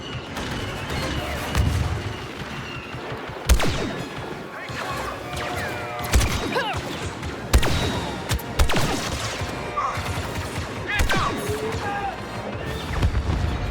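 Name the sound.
rockets and explosions in Star Wars Battlefront 2 video game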